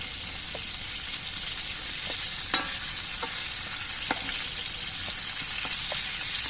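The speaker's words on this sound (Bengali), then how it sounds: "পটলগুলো আমার ভাজা হয়ে গেছে এবার পটলগুলো আমি নামিয়ে নিচ্ছি" Fried pointed gourd lifted out of a pan of hot oil, with a constant bright sizzle under scattered light clinks and scrapes of a utensil against the pan, no voices.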